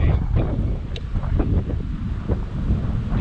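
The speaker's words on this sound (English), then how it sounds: "And it's pretty windy out here" Strong wind roaring across the microphone in heavy continuous gusts at Shark Valley in the Florida Everglades, loud and close throughout.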